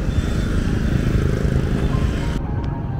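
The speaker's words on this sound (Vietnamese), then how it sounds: "Xe máy, xe hơi thì vẫn vào bình thường." Motorbikes and cars pass along a street near the Đà Lạt market, a steady loud rumble of engines and road noise that continues without a break.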